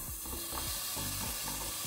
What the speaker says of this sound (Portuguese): Em seguida, eu vou colocar a cenoura e a abobrinha